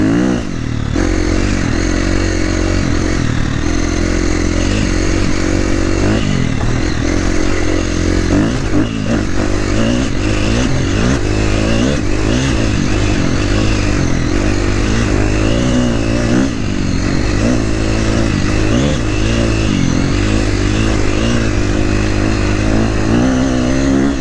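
A KTM 350XCF dirt bike, essentially stock with a header and tune, screams at full throttle over bumpy ground, loud and continuous, with revs rising and falling and clattering from the ride.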